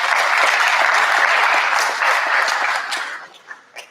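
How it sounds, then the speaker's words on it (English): A room of families at a junior honor society induction ceremony applauds loudly and densely, the clapping holding steady before thinning out to a few last claps. "Round of applause, please, for your families."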